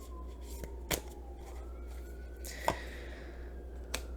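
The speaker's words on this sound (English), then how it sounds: "Can we get a little bit of a shuffle here with this Two of Swords?" Tarot cards are shuffled by hand in a few sharp, separate riffles and snaps over a steady low room hum, with no one speaking.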